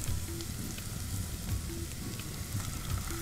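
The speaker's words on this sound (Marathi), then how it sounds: "आता आपला कांदा आणि गाजर शिजलेला आहे, तर यात आपण आता जिंजर गार्लिक पेस्ट टाकूया" Ginger garlic paste sizzles in a pan with cooked onion and carrot for a Japanese katsu curry, a steady close crackle of frying with faint stirring taps.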